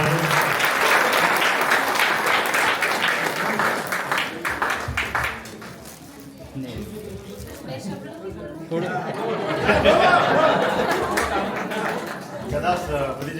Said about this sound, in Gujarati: પ્લીઝ બધા તાળીઓથી વધાવો.